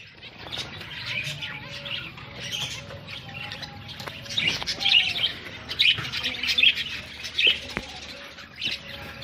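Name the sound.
zebra finches chirping in their cage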